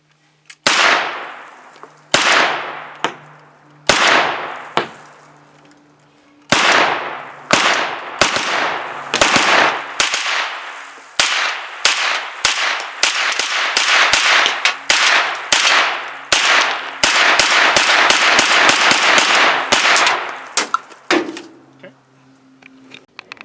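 Kalashnikov-USA KR9 9mm carbine firing at an outdoor range: loud, sharp single shots in quick bursts, spaced at first and then coming in rapid strings, with short pauses between magazines.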